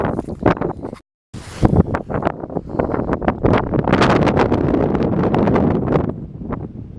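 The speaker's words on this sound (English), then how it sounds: "it's a bit breezy folks" Gusty wind buffets a microphone on an open hilltop campsite, loud and continuous with rustling bursts, a brief drop to near silence early on, then steady roaring gusts that ease slightly at the end.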